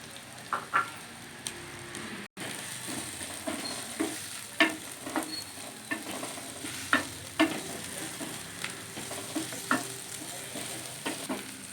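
Chopped onion frying in oil on a tawa, a steady close sizzle broken by regular scraping stirs, moderately loud with no talking.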